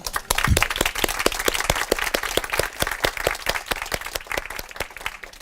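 An audience at a literature event's opening remarks claps together, the individual hand strikes sharp and distinct, fairly close and steady for several seconds with no talking over it.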